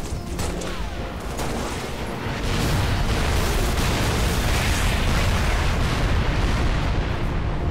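Artillery fire-for-effect barrage in Halo Reach, a continuous roar of heavy explosions that swells louder after a couple of seconds and keeps rumbling densely, with no voices heard.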